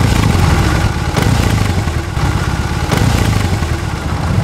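A 2020 BMW R18 motorcycle's boxer engine runs close and loud, a deep, throbbing rumble with a rhythmic pulse and slight surges over several seconds, with no voices.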